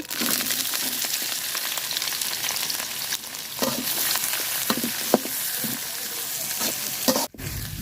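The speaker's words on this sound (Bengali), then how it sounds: "পেঁয়াজটা একদম লাল লাল করে বাজিয়ে নিছি" Chopped onions frying in a mix of duck fat and a little oil, with cardamom, cinnamon and bay leaf in the pan, give a steady close sizzle broken by sharp scraping stirs, then a brief drop near the end.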